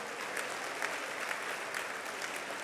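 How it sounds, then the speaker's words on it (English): Steady, even applause from a banquet audience at a fellowship dinner honoring Emil Jones Sr., a dense wash of clapping that holds throughout without talk. "Everybody should be clapping."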